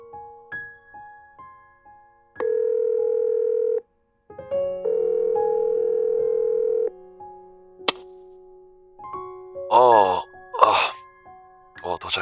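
A phone calling home plays a series of electronic tones: short beeps, then two long steady dial-tone blocks, followed by rapid warbling ring tones near the end.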